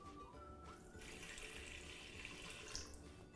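Half a litre of water pours steadily into a cooking pot for braised abalone, a continuous splashing stream close to the mic with no talk.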